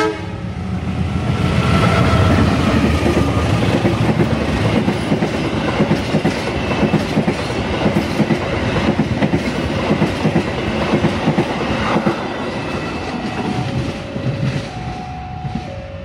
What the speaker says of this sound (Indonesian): itu tadi kereta api yang melintas dari arah barat